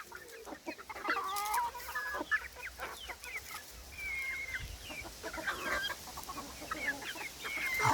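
Several Araucana chickens cluck and chatter at once, close by, with overlapping short calls and squawks over a low farmyard background.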